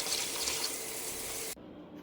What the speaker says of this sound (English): And cover with water.